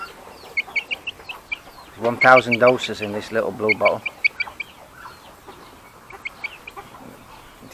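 Chickens cluck in short, scattered calls on a farm where birds are being vaccinated against Newcastle disease, with one showing a watery, swollen eye; someone talks over the middle, and the clucks continue faintly around his voice.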